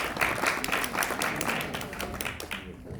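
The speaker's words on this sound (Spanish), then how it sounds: "La vamos a recibir con un fuerte aplauso." An audience at the LACIGF12 internet governance forum claps to welcome a speaker to the stage, with moderately loud, dense clapping that fades near the end.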